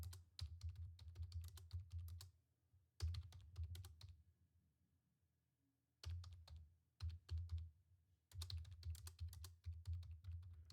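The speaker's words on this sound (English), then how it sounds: "y'all see what I'm typing, right?" Quick bursts of typing on a computer keyboard, close and clear, arriving in several clusters of rapid key clicks separated by short silent pauses.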